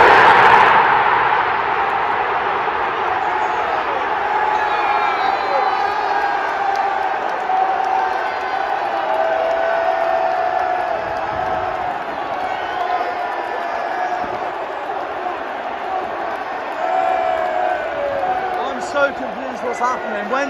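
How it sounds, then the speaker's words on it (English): Barnsley football fans roar and cheer in a packed stadium at the League One play-off final, a loud, sustained crowd swell with whoops and shouts rising and falling, with a commentator talking over it. "but all the Barnsley fans are cheering."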